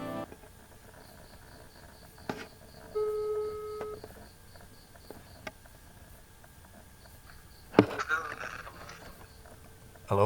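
A telephone call ringing tone, a short pair of steady electronic beeps partway through, followed later by a burst of a voice answering, with light clicks and background noise around it.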